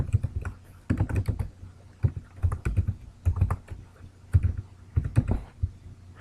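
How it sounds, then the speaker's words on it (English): Rapid keystrokes on a computer keyboard while a budget project title is entered in Google Classroom, coming in close, clicky bursts separated by short pauses. "I'm going to type up here budget project"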